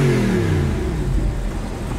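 An Audi R8 Spyder engine revs loudly and close by, its pitch climbing then falling away into a throaty, rumbling idle.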